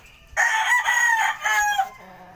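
A fighting rooster (gamecock) on a rooftop crows once, close and loud, the call lasting about a second and a half with a drawn-out ending.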